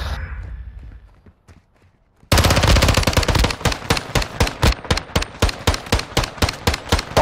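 Rapid automatic gunfire in a shooter video game bursts in loudly after a quiet stretch, then continues as a steady run of sharp shots.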